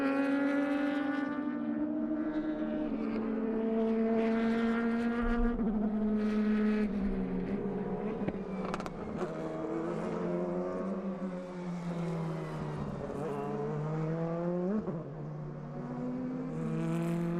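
Race cars lapping the Inje circuit during an Asian Le Mans Series round, high whining engines passing and shifting through gears, several machines layered loud and continuous with pitch rising and dropping as they pass.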